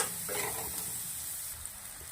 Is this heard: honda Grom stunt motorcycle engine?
no